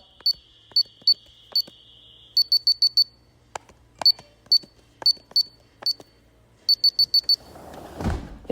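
An Abode home security system alarm under test sounds loud, high electronic beeps close by. They come in rapid clusters of three or four, with short gaps between clusters, and a brief rustling noise follows at the end.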